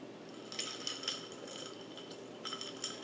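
A straw stirring a mixed drink in a glass, giving soft, faint clinks and taps against the glass in small irregular clusters over quiet background.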